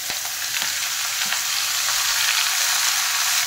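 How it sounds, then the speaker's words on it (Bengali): Chopped bottle gourd frying in tempered oil in a pan for a vegetarian dish, a steady close sizzle throughout with faint stirring clinks. "এখন আমি দেখেন কেটে রাখা লাউগুলো দিয়ে দিচ্ছি"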